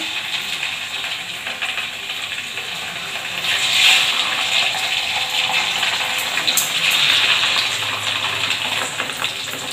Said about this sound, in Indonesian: Kita mulai menggoreng.